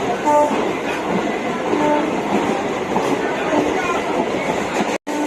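Steady rumbling and rattling from inside a moving, fairly empty passenger train carriage bound for Tarakeswar, continuous and close, with faint voices murmuring in the background.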